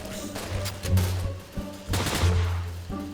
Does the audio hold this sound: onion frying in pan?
no